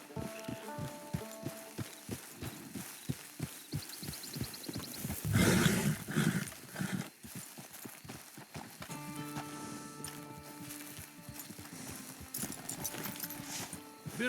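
A horse in the video game Red Dead Online walks with steady, close clip-clopping hooves in an even rhythm. A brief louder burst interrupts it midway, and game music tones join toward the end.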